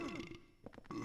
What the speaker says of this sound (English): he just burped